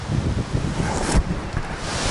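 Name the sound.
wind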